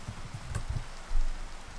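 Rain falling on a surface, a steady close patter with a brief heavier gust of drops partway through, no voices.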